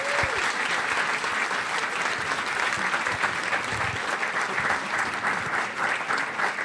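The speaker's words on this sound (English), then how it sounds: "Can we please give them another round of applause?" Sustained applause from an audience after a cooking talk with chef Eric Ripert, dense steady clapping filling the room for several seconds with no speech over it.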